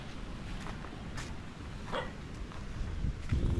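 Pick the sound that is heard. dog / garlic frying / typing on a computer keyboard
dog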